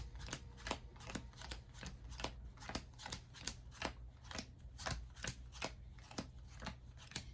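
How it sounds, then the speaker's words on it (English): Playing cards being shuffled in a steady run of crisp, quick riffles and flicks, close by, with no talking. "hopefully through shuffling these cards I can locate your card"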